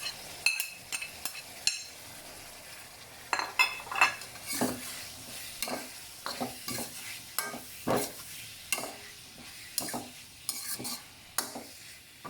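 Egg with carrot and tomato is stir-fried in a pan, with the spatula scraping and clacking in an uneven rhythm over a steady sizzle, close up with no talking.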